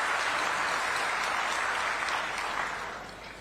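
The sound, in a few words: applause welcoming a state minister at a farmers' gathering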